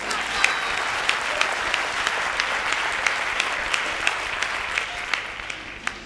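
Steady audience applause at a comedy poetry performance, dense clapping held evenly throughout with a few sharper individual claps standing out, no voices above it.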